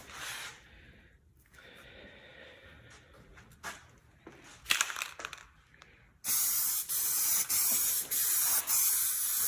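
Spray can laying metal flake paint onto a car, several short hissing bursts early and then a run of louder, longer sprays in quick succession, each cut by brief pauses.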